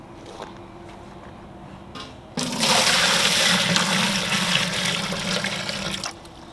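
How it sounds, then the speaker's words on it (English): Running water gushes loudly from a tap into a pot holding rocks for a few seconds, starting abruptly after some faint clatter and then cutting off. "fill the water to the top of those rocks."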